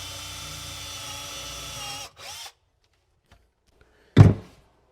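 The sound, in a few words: drilling a small hole with 8mm bit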